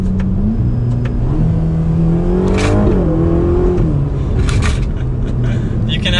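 A 2021 Ferrari Roma sports car revving under acceleration, its engine note rising and falling through gears with a loud, close, steady exhaust drone and a faint voice underneath.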